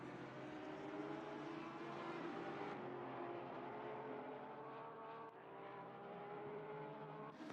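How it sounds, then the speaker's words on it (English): Race cars lap Brands Hatch in a racing game, a continuous engine roar with layered harmonics and shifting pitch as cars pass and change gear, steady and fairly loud throughout, with no talk. "Still lots of cars driving at the back."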